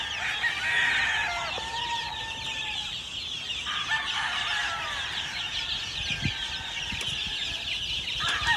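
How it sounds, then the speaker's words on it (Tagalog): A flock of chickens and roosters on a gamefarm with more than 400 birds clucks and crows continuously, with overlapping calls, a few drawn-out crows and occasional wing flaps. "More than 400 chickens."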